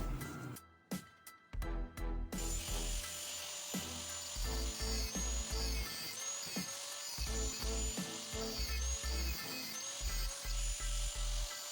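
Metal pipe ends being cut with a power tool for a welded ladder, a close grinding whine in short repeated bursts, with a few sharp knocks at the start.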